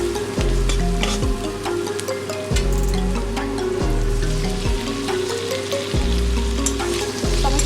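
Chopped tomato frying with spices in a pan, a continuous close sizzle with stirring scrapes, over steady background music.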